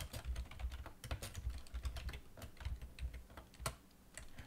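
Rapid typing on a computer keyboard during a Lisp programming session, with dense irregular bursts of close key clicks and thumps running steadily with no talk.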